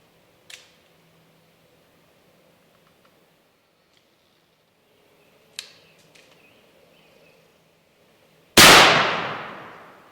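Two faint, sharp metallic clicks several seconds apart as a shotgun misfires while turkey hunting, then a single loud, close gunshot blast with a long fading tail.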